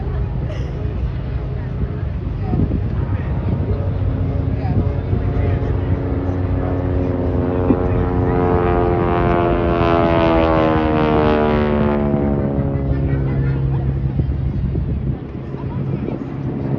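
A low-powered display aircraft flies at the Blackpool air show, its engine drone sustained and loud, sweeping in pitch as it passes, under steady crowd babble.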